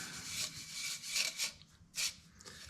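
Scratchy abrasive hand sanding on a cherry wood bowl in uneven strokes, close up, with a few louder bursts and no voices.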